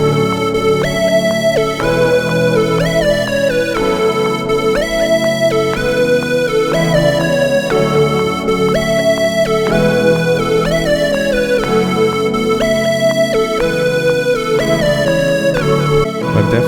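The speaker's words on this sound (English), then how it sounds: "it's called a Lidl Square inside Anna2." Lidl Square synth lead preset in the Anna2 VST plays a bright, buzzy square-wave melody over an R&B beat with steady drums, loud and continuous with a repeating phrase.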